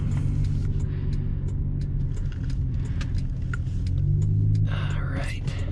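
A 2000 Toyota Camry V6 with a 5-speed manual gearbox pulls away and accelerates along a rural road by muck fields, heard from the driver's seat as a steady low engine drone with road rumble and faint cabin rattles.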